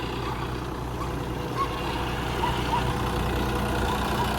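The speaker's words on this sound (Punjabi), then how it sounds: "ਰੂਟਾਵੇਟਰ ਤੇ ਪੂਰਾ ਵਧੀਆ ਚੱਲ ਰਿਹਾ ਜੀ 5405 ਜੌਂਡੀਅਰ ਆ ਜੀ" A John Deere 5405 tractor in 17–18 gear drives a rotavator digging deep, its engine holding a continuous, even low rumble with a steady mechanical churn nearby.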